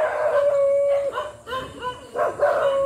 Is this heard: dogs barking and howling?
yes